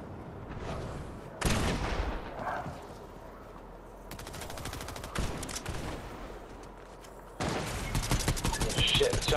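Automatic gunfire in a Fortnite match: long, dense rattling bursts of rapid shots, loud and close, broken by short pauses and then resuming at full intensity.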